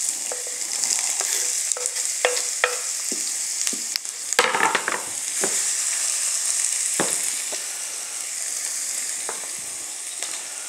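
Onions sizzling steadily in a hot pan for spaghetti Bolognese, a broad constant hiss with scattered sharp crackles and pops, loud and close, with no one talking.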